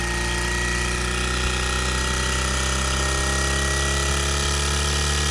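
Milwaukee M18 cordless 5 CFM vacuum pump running at half speed, a steady loud mechanical drone with a constant low hum and hiss, unbroken throughout and close by.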